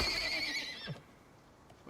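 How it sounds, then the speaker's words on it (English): A horse in the video game Icarus gives one loud, shrill whinny that trails off after about a second, leaving a quiet background. "And there's a horse out there, so."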